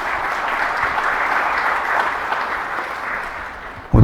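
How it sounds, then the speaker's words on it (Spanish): An audience at a medical conference gives the doctor a sustained round of applause, an even, full-room patter of clapping that holds for about four seconds before fading. "Un fuerte aplauso para el doctor."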